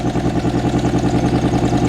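A 1961 Ford Falcon engine, revived after being abandoned, idles steadily with a rhythmic, even low-pitched chug, loud and close, with no talking.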